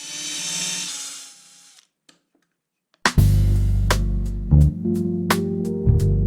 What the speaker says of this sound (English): The drill rotates counterclockwise.